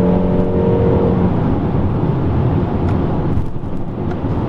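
A 2017 Peugeot 3008 accelerates after a downshift, its engine a steady, moderate drone heard from inside the cabin with road and wind noise, not especially loud or sporty.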